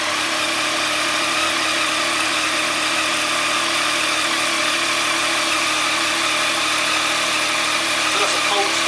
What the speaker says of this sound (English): So that's a cold start, idles up high.